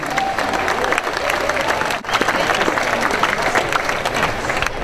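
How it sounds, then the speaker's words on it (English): An audience applauds at a surf film premiere in Waikiki, a steady loud wash of many hands clapping that dips briefly and then resumes, with cheering mixed in. "Big round of applause for Bud"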